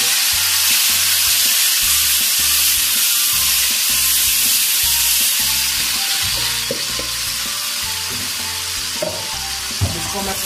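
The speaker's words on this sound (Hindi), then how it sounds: "अब मैं इसी ऑयल के अंदर दो टमाटर जो मेरे पास मैरिनेशन बच गई थी उसे मैंने मिक्स करके इसमें मैंने डाल दिया।" Tomatoes mixed with leftover chicken marinade sizzle and fry steadily in hot oil, a loud continuous crackle with periodic stirring scrapes and clatter throughout, no voices.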